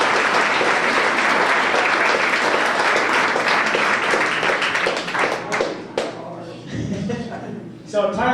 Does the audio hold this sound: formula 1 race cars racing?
no